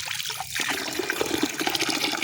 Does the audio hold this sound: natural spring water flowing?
yes